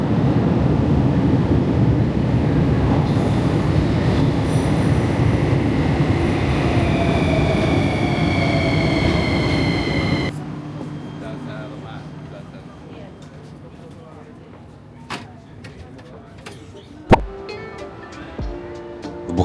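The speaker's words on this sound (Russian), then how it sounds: "В метро мы также прокатились, поезда свежие" A loud, rumbling Bucharest subway train ride with rising whine, then the noise drops as the train slows, leaving quieter rattles and a few clunks.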